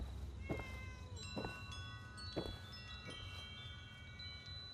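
A cat in a post-apocalyptic game world meows several times in a row, each short mew spaced about a second apart over a steady low background hum.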